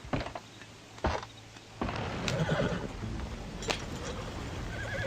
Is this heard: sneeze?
no